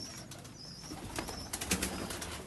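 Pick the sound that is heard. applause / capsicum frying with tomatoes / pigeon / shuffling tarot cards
pigeon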